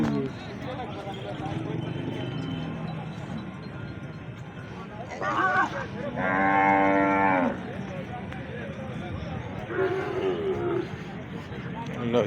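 At the Kharian cattle market, buffaloes and cattle low among people talking nearby. One long, loud moo stands out midway, with shorter calls before and after it.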